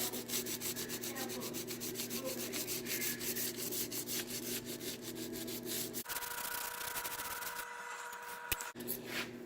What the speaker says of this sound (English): keep going down grits until I can hardly make out the scratches